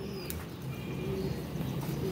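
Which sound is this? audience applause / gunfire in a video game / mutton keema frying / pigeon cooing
pigeon cooing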